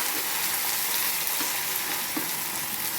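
Hot fried tempering for a mutton kurma sizzles steadily as it is poured into the curry, a loud, continuous frying hiss with a few crackles and no talking.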